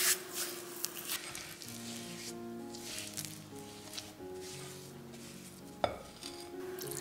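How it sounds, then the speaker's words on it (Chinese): Softened cream cheese and fine sugar are stirred in a bowl, producing close, soft rubbing and scraping strokes with a sharp utensil tap near the end. "加入细砂糖，搅拌均匀。"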